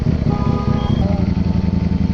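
A liter-class V4 superbike engine rumbles loud and close with a pulsing, throbbing idle beat, steady for a couple of seconds with no break.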